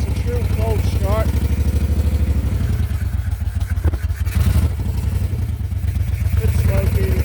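A Moto Guzzi Eldorado motorcycle idles right after a true cold start, its engine chugging in a steady low, uneven throb close to the microphone, with a brief clattering rev partway through.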